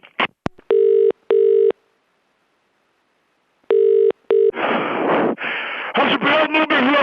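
A telephone is dialled during a prank wind-up call: two loud electronic tones, a silent pause, then two more tones, followed by a voice talking with rough background noise.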